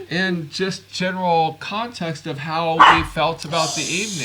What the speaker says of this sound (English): That is our dog